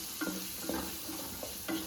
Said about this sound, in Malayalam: ഒരു 3 സവാള, വലിയ സവാള എന്ന് വെച്ചിട്ട് കനം കുറച്ച് നീളത്തിൽ അരിഞ്ഞതായിരിക്കും വറുത്ത് കൊടുക്കാം